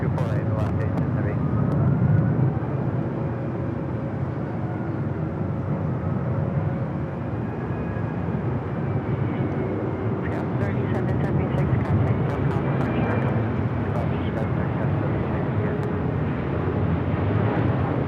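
An airliner rumbles along the runway at LAX, a steady loud roar with a faint rising whine, heard from nearby while people talk over it.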